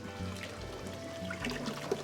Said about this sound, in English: Final bottle of Perrier going into the hot liquor tank.